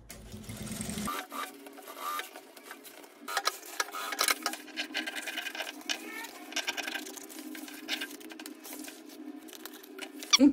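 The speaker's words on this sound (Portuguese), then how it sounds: "vou passar uma costurinha em toda a volta" Sewing machine stitching around the lining of a men's lunch bag, a faint rapid patter of needle strokes that comes and goes in short bursts, close by and with no voices.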